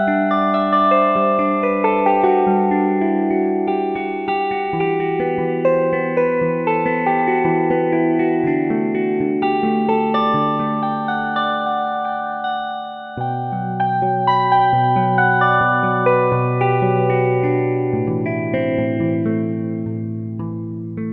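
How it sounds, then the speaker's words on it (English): Plucked notes from the Spitfire Audio Heirloom sample library, layered into a dense, sustained melodic pattern with long reverberant tails, loud and continuous throughout. "And the plucks sound absolutely ace"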